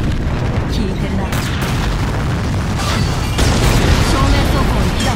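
Tank cannon fire in the Girls und Panzer Dream Tank Match game, from a Sherman Firefly battle: a loud, dense roar of battlefield noise broken by a couple of sharp, heavy blasts.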